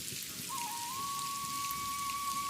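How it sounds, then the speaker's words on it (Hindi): Steady rain falls over fields and village huts, a dense continuous hiss with a faint high whistle-like tone running through it. "ई बरखा न केवल खेत तर कर रही है, बल्कि हमारी झोपड़ियों, हमारे दिल, सब माँ नई जान भर रही है।"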